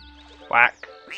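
A single short, raspy quack from a quackberry piñata at a pond in Viva Piñata rises over quiet background game music, followed by a fainter trailing call.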